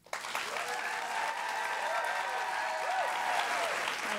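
A live podcast audience breaks into applause as a vote, starting abruptly and carrying on as steady, full clapping, with cheers and whoops rising over it.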